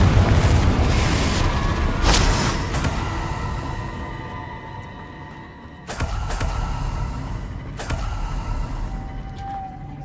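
Booming blasts from Confringo spells in Hogwarts Legacy, one at the start, another near two seconds, and a sharp loud hit around six seconds. The explosions ring out over a dense, rumbling game soundscape.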